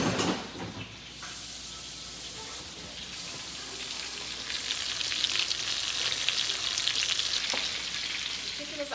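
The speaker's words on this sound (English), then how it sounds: "Chicken is almost done frying" Chicken frying in a pan gives a steady, close sizzle with a brighter crackle in the second half, broken by a few light stirring clicks and scrapes.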